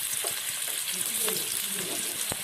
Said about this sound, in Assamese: তেলখিনি পকাৰ পিছত পিঁয়াজখিনি দি দিম